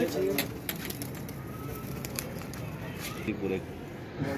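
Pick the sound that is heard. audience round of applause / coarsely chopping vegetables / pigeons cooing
pigeons cooing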